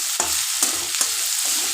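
Spices with turmeric frying in a pan, close and loud, a bright sizzle punctuated by three or four sharp spatula scrapes at a steady stirring rhythm.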